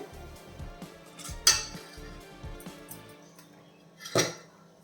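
A lid is set onto an appam cooking pan, giving two sharp metallic clinks a few seconds apart over a low, steady background hum and soft bumping.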